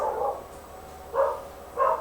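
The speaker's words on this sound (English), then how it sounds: "the dogs are getting crazy" Dogs barking in short bursts, about three barks over two seconds, moderately loud against a quiet background with no talking.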